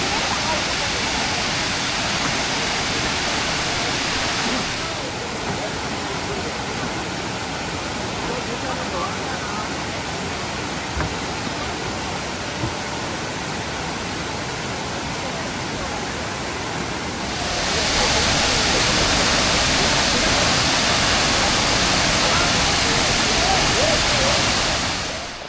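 Roaring Kuang Si Waterfall near Luang Prabang, Laos: a steady, dense rush of falling water throughout, swelling louder toward the end as the listener draws closer.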